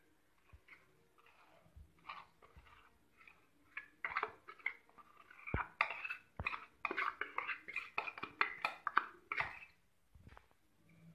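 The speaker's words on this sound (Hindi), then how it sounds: "पहले हम इसे चम्मच की सहायता से ऐसे मिक्स कर लेंगे" A spoon stirs caster sugar into cake batter in a bowl, giving faint, irregular scraping and light clinks against the bowl's side that grow busier midway.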